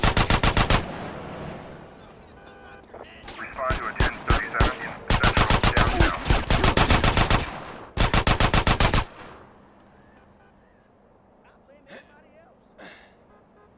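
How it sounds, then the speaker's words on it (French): Rapid automatic gunfire from GTA San Andreas rattles in long loud bursts with brief gaps, ending in a quieter stretch, while game dialogue is spoken over it. "ça se tire dessus direct. Bang, bang, bang!"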